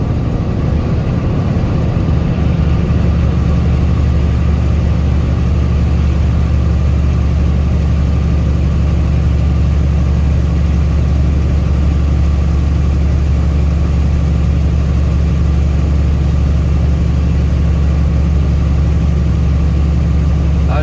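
A heavily loaded truck's diesel engine drones loud and steady while climbing the eastbound mountain grade of Cabbage Pass after engine work, with a deep constant low rumble heard from inside the cab and no talking.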